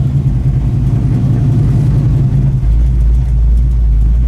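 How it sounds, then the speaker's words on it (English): A 1976 Pontiac Trans Am V8 rumbles close and loud, its deep throbbing engine note shifting as the revs change, then settling into a heavy low idle with no talk. "this is Pontiac power right here"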